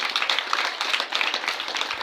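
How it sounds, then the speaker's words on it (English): Applause from an audience at an office inauguration event for a mental disability association, a dense, steady patter of clapping continuing for a couple of seconds. "I want a bigger round of applause"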